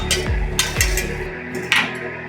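A spoon stirs bechamel sauce in a pot, giving a few close clinks and scrapes against the metal over a steady background hum.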